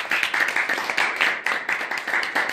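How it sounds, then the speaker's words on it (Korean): Applause from an audience at a Korean political forum, honoring a general just introduced on stage; a dense patter of many hands clapping with a rhythmic, pulsing quality, fairly close and steady throughout. "박수 한번 주십시오."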